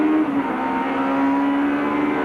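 A touring race car in a 1992 ATCC round at Eastern Creek downshifts through the gears. Its loud, close engine note steps down in pitch with each shift.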